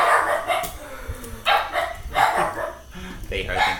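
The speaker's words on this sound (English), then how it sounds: "They heard the neighbor's dogs now" Neighbor's dogs barking outside on a summer day through open windows, several sharp barks in irregular bursts at moderate distance, mixed with a person talking indoors.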